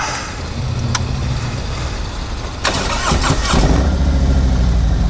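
A 2018 Harley-Davidson Road Glide Ultra nicknamed Battle Donkey cranks and fires up partway through, settling into a loud, close, rumbling idle after a quieter stretch of background noise.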